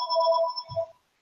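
A phone's ringtone sounds in bright electronic tones for about a second, with a soft low thump near the end before it stops, with no talking.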